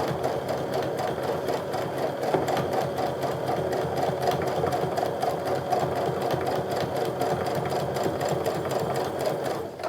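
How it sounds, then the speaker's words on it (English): A sewing machine runs steadily and close by, top stitching along the edge of quilting cotton fabric for a bag's front pocket with a regular quilting needle. It keeps a fast, even hum for the whole stretch without pause. "I'm just keeping the edge of the foot lined up with the edge of that fabric to get a nice even top stitch as I go around."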